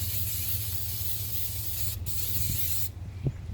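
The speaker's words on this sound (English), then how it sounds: "Now we're going to take some cooking spray" Cooking spray hisses in one long continuous burst from a can, followed by a short second spritz, close up in a kitchen while hot dogs with crescent dough are being prepared.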